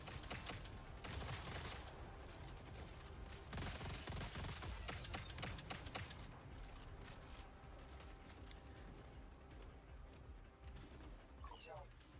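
Rapid bursts of shotgun fire in a video game firefight, dense and continuous with other gunfire and effects, loud throughout and running under game chatter.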